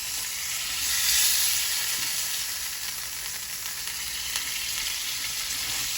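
Steak frying in a pan on one side, a steady loud hiss and crackle of sizzling fat that swells slightly early on and then holds even, close up with no talking.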